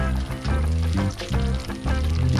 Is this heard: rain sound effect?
no